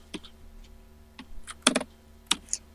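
Short bursts of computer keyboard typing while renaming a spreadsheet, a few scattered clicks then a quick cluster of keystrokes, close and crisp in a quiet room.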